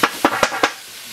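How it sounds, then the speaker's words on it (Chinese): Bitter melon and goose eggs stir-fried in a wok, with several sharp clatters of a spatula against the pan in a quick irregular rhythm, close and fairly loud over a faint sizzle. "这苦瓜炒鹅蛋做好了"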